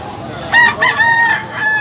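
A three-year-old Tasmanian-type rooster crows loudly and close at a poultry spot in Tabunok, Cebu: one drawn-out, wavering cock-a-doodle-doo that starts after a brief pause and sits over faint background noise.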